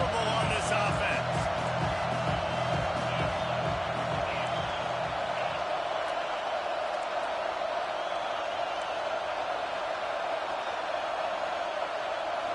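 A roaring stadium crowd at a Tennessee vs Oklahoma college football game keeps up a dense, continuous wall of noise, with rhythmic chanting or drumming early on and speech mixed in.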